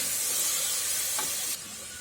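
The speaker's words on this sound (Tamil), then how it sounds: "2 மீடியம் சைஸ் தக்காளி கட் பண்ணி வச்சுருக்கேன், அதையும் சேர்த்துடலாம். சேர்த்துட்டு நல்லா ஃப்ரை பண்ணி விடுங்க." Two medium-size cut tomatoes fry in a pan with mint and coriander for egg biryani, giving a steady, close sizzling hiss that stays fairly even and then drops slightly quieter near the end, with no talking.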